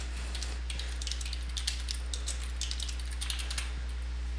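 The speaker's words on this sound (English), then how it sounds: "So we'll go ahead and type in whatever text we want." Computer keyboard typing while text is entered in a Photoshop text field, a steady run of quick, light key clicks at close range with no talk.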